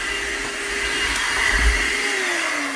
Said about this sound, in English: So I have a vacuum cleaner in my van. I plug it in right here, and I can clean.